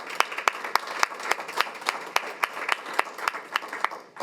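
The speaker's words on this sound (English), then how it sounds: "So let's give them a round of applause." A modest audience at a school board meeting applauds an elementary school, with a steady patter of claps punctuated by a few sharper, nearer hand strikes in a regular beat.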